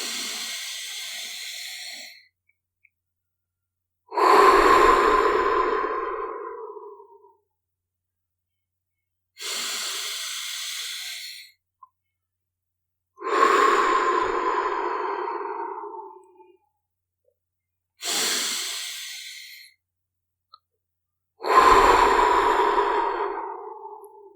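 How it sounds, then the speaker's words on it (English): Slow, calm deep breaths in a guided breathing exercise: three long airy inhales, each followed by a fuller, lower exhale, close and alone with silent pauses between. "Just another 3 calm breaths."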